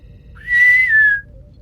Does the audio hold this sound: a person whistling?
yes